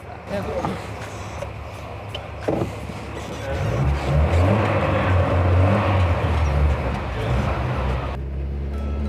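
A classic Maserati Mistral engine idles and then swells into a low, steady rumble as the car reverses, close up, with a voice talking over it.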